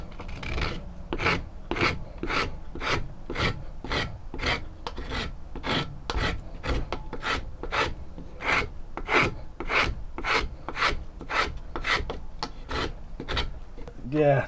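Hand file rasping across a sword handle being shaped, a steady rhythmic series of about twenty scraping strokes, close and clear with no talk.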